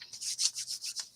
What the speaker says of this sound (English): So I cut these an inch, and then I'm just kind of sanding my edges down.